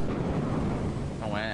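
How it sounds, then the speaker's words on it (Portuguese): Steady rain and wind noise in the game Lethal Company form a dense, continuous wash throughout, with a rumble of thunder underneath and a brief tonal sweep near the end. "Já começamos com chuva já."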